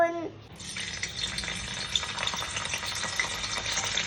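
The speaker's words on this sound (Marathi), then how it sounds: "पनीर घेता तळून," Cubes of paneer fry in hot oil, a dense close sizzle that starts suddenly after a brief quiet moment and then crackles on steadily with small pops.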